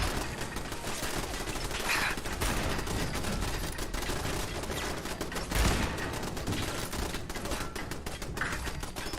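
Sustained gunfire and bursts of automatic shooting in a Fallout game battle, dense and continuous with a few heavier reports standing out over busy combat noise.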